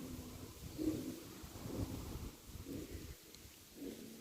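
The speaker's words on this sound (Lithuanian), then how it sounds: "Tam kaip vėjas, kaip nemalonu." Wind buffets the microphone outdoors at a lakeside fishing spot, making a low, uneven rumble that rises and falls in soft gusts. No voices are heard.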